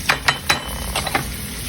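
Sliced grilled pork tossed with chili powder in a pan, with a few quick scraping stirs in a brief rhythmic cluster over a faint sizzle, close and fairly quiet.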